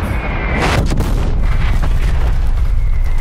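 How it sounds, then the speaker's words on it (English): Artillery strikes exploding in Call of Duty: Black Ops Cold War, heavy booms and a rolling rumble that stay dense and loud throughout, with several sharp blasts near the start. "Artillery inbound."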